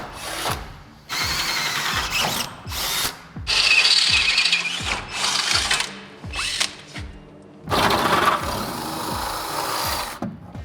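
A power drill whirs in repeated bursts, biting through a steel truck frame with grinding high-pitched screeches, several starts and stops, close and loud.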